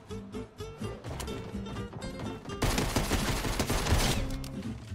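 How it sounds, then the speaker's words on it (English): Infantry rifle gunfire in Fortnite, rapid bursts of shots that build into dense continuous firing, loud and close, with game sounds underneath. "Infantry rifle."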